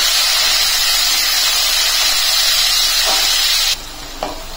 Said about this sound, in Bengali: তখন আমি সব কিছু একটু ভেজে নেব।